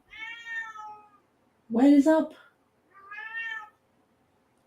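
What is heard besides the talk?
cat meowing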